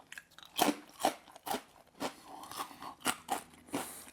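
Loud, close crunching of bagel chips, about eight sharp bites and chews spaced roughly half a second apart, with no talking.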